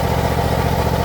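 The engine of a 52-inch Ariens Icon-X zero-turn riding lawn mower runs at a steady, loud, close rumble, a short continuous stretch with an even pulsing rhythm and no speech.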